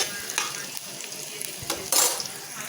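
Garlic, onion and dried chili fry in a pan, a close sizzle broken by stirring scrapes and a louder burst of frying near the end, with no talk.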